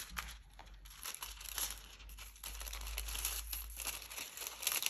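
Close, quiet crinkling and tearing of a thin crafting foil sheet for card making in irregular bursts, with no voices.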